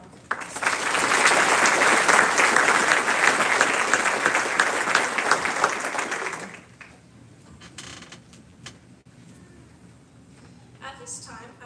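Applause from a school audience at a class day ceremony, a loud sustained burst of clapping lasting about six seconds before cutting off into quiet room noise with faint shuffling.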